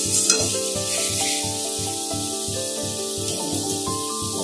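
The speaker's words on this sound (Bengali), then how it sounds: "ততক্ষণ আমি এইভাবেই নেড়ে চেড়ে করতে থাকবো লাউ" Bottle gourd (lau) frying in a pan while being stirred, a steady broad sizzle with regular soft scraping strokes under a faint background hum, close and continuous, no voice.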